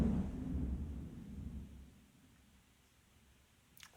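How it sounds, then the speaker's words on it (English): Thunder from a lightning storm rumbles low and heavy at the start, then slowly fades to a quiet tail, with a faint rustle right at the end. "Hey, lightning."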